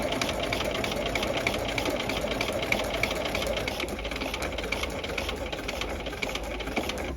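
A sewing machine stitches a tab welt pocket seam, running in a fast, even mechanical chatter that holds steady and alone at close range for several seconds.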